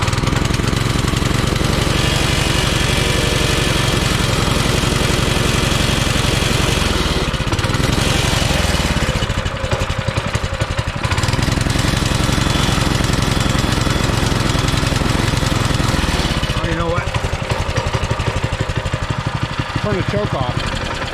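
A MB200 mini bike engine runs loud and close, a rough, steady mechanical chug that dips briefly in places before resuming.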